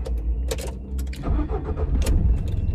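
A 2017 Volkswagen Gol car engine starting up, with a few sharp clicks followed by a steady, close low rumble as it settles.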